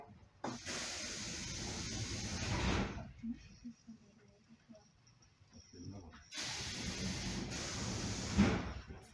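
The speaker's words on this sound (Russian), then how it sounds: "Осторожно, двери закрываются." Doors of an ED4M electric suburban train close with two broad hissing, rushing bursts separated by a quieter stretch of carriage rumble, heard from inside the car.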